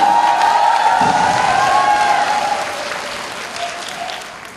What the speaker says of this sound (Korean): 한 박수 부탁드립니다